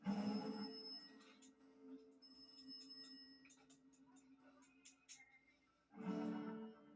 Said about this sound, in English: At around 1 p.m., the phone rings again.